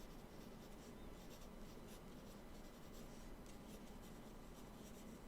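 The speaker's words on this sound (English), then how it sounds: "I'm gonna do this so that way you guys can hear me writing" A pen writing on a page of paper, heard very close as steady scratchy rubbing strokes with faint rhythmic variation, quiet and continuous with no voices.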